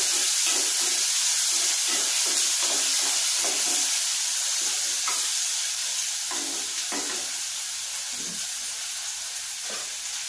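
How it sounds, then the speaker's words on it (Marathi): Grated coconut fries in a pan with onion, garlic and tomato, giving a constant bright sizzle while a spatula scrapes and stirs in short, repeated strokes and no one speaks. "छान खोबरं तळून घेऊया."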